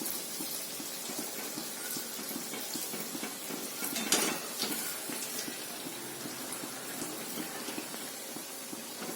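Sweet wheat-flour gulgule frying in oil until brown, a moderate continuous bubbling sizzle with faint clinks of a pan and a brief louder splash midway.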